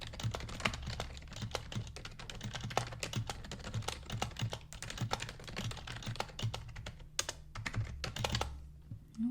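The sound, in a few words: typing on a computer keyboard during survey role play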